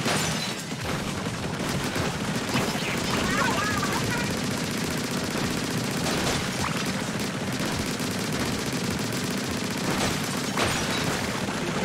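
Ink octo missiles fire in the Splatoon 3 video game as a dense, continuous barrage of rapid popping blasts and booms that runs loudly throughout.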